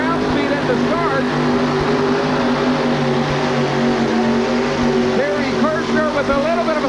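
A pulling vehicle's engine roars steadily at a 1989 TNT Memphis pulling event, straining and bogging down toward the end of the pull, with an announcer talking over the sustained, loud mechanical drone throughout.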